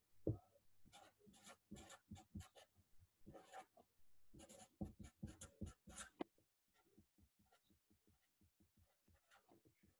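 A marker or pen writes on paper at the top of a page, producing bursts of scratchy strokes in an irregular rhythm, then lighter, shorter taps and strokes, close and clear with no talk.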